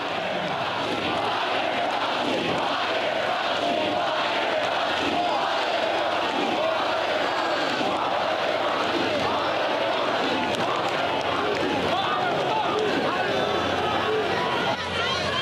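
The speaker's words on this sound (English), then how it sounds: "The crowd was chanting, "Fire Fauci."" A large political rally crowd in Florida chants in unison, a loud, dense roar of many voices with a pulsing rhythm that carries on steadily throughout.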